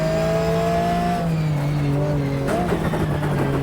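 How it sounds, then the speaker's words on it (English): A Porsche racing car's flat-six engine in the video game GTR2 drones loudly at high revs, the pitch sagging then climbing again as it shifts and accelerates. "the Porsche sounds like a perfect flat six, handles like a Porsche."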